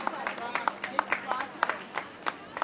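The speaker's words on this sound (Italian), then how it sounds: "Grande applauso Eleonora." Crowd clapping for a leading race walker at the finish of a youth women's race walking trophy event in Brusaporto, with a dozen or so sharp, irregular claps spread across a few seconds, fairly close, and some faint background chatter.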